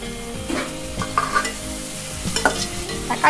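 Tomato frying in hot oil while being stirred for a chicken biryani and mutton gravy: a steady sizzle runs throughout, broken by the repeated scrape and clink of a spoon against the pan, close and fairly loud, with no talking.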